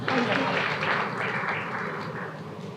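Steady applause from a crowd, dense and continuous, with voices mixed in beneath the clapping.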